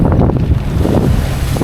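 A Cape Dory 28 sailboat under motor with the jib out drives its bow into waves, giving a loud, close wash of water and wind rumble that churns continuously through the short moment.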